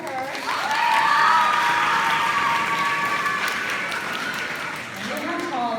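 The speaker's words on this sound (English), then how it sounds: "So, round of applause for her." Applause at a sports banquet, a sustained round of clapping from the room that swells early and then slowly fades, with some cheering mixed in.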